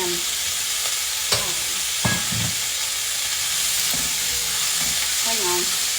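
Onion and baby petite carrots sizzle and hiss in a hot pan, a loud steady frying crackle with a few stirring scrapes and clinks close by.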